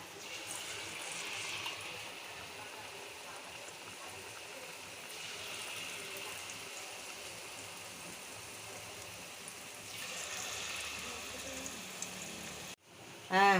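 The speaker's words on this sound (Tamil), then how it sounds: "இப்போ போட்டுடலாம் வாங்க எண்ணெயில்." Kerala pazhampori, batter-coated nendran banana slices, frying in hot oil, giving a steady, even sizzling hiss that runs the whole time with slight swells, and a brief clunk just before the end.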